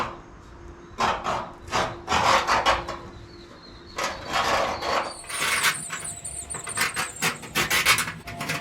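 A scribe drawn across the painted metal of a hot rod's gas tank side panel, making short bursts of scratchy rasping strokes separated by brief pauses, close up, plus a thin squeal in the later strokes.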